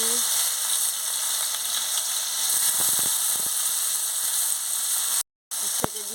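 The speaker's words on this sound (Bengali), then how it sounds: "ভালো করে ভেজে নিচ্ছি" Bitter gourd sizzles and fries steadily in hot oil in a wok, a loud continuous crackle with a few brief stirring scrapes and a short dropout near the end.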